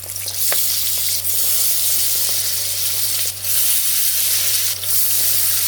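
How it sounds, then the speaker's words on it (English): Batter-coated haggis pakoras fry in medium hot oil, a steady close hiss and bubbling sizzle with a few faint clinks of stirring. "So let them fry on a medium flame until they get nice golden brown"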